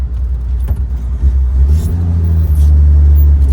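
A 1951 Hudson Super Six custom convertible pulling away in second gear, a loud, close low engine rumble that swells steadily as the car accelerates.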